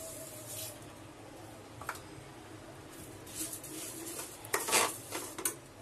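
Half a cup of sugar is stirred into a barfi mixture in a pan, heard as quiet spoon scrapes and a few metallic clinks against the pan, growing busier toward the end, over a faint low sizzle.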